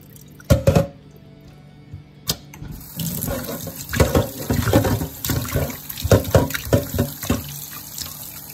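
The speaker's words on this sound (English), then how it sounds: "And then you're gonna rinse them 2 more times." Tilapia fish being rinsed under a running kitchen tap: intermittent water splashes and sloshing as the fish are handled, starting with a couple of sharp bursts then a busier stretch of running water and clatter.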